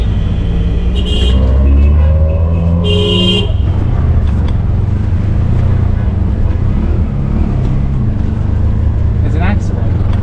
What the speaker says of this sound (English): Just traffic's insane.